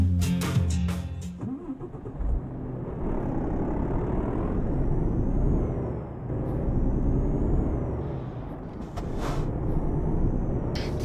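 A truck rumbles along in Euro Truck Simulator 2 with a low, steady engine drone. Sharp air-brake hisses come near the start and again later, and a faint high tone drifts over the top, with no voices.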